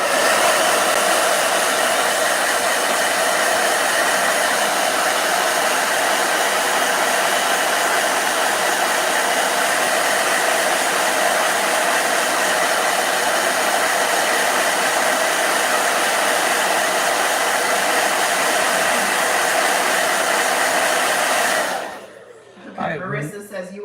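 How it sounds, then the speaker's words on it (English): Blow dryer running loud and steady with a constant airy whir, close by, cutting off abruptly near the end. "Blow dryer."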